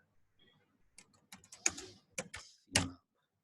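Computer keyboard keys tapped in a few scattered clicks and short bursts at close range, soft at first and then sharper, with no talking.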